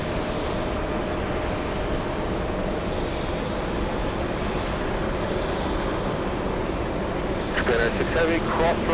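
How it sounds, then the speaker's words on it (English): A Korean Air Airbus A380 on final approach at JFK gives a steady, broad engine roar heard from a distance, with a faint voice chattering near the end. "We have the A380 Korean on final approach."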